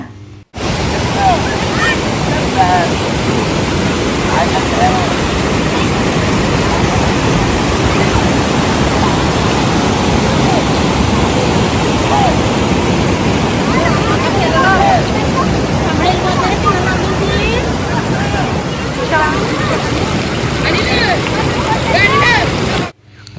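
The Jaddangi waterfalls by a Shiva temple in the Godavari district make a loud, unbroken roar of falling water close by, with a voice talking over it.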